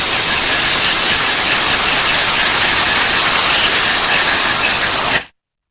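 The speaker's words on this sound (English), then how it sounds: "Then, Jimmy, I take air that has been compressed and I blow the fine particles of the tumbling media away from the just tumbled cases." Compressed air blasts fine tumbling media off freshly tumbled cartridge cases in a loud, continuous hiss lasting about five seconds before cutting off sharply.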